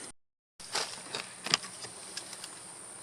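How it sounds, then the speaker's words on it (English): Honey bees buzz around a backyard beehive, a steady close drone with a few louder passes from individual bees. The sound starts after a brief silent gap at the opening. "This hive has lots of bees going in and out"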